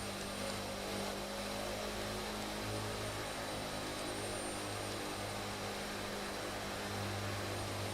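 Steady four-engine turboprop drone of a Captain Sim C-130 Hercules in a flight simulator, a loud continuous hum with low tonal bands that swell slightly, with no talk over it.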